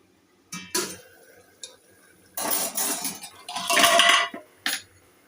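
A metal lid comes off a pot of egg curry on a home stove with a few sharp clanks and scrapes, then a longer rattle of metal on metal and a final clink, close and clear, with no talk.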